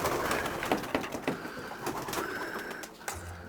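Paired racing pigeons coo inside a loft, with repeated soft calls and wing shuffles over a close, steady background and no talk.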